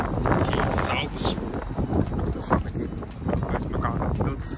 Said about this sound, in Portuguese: Cara, tá ventando muito, muito, muito, muito.